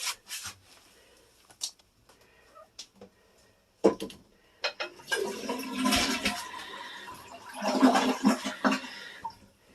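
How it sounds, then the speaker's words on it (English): A toilet bowl being scrubbed with a toilet brush in a home bathroom: scattered knocks and short scrapes at first, then a long stretch of loud, wet rubbing and swishing, close by and with no talking. "Now I'm going to get my toilet brush and clean the toilet."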